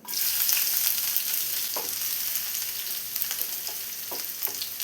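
Small chopped shallots sizzle steadily in hot coconut oil for a Kerala prawn and raw mango curry, a dense continuous frying hiss with a few soft stirring clicks, close and alone with no voices.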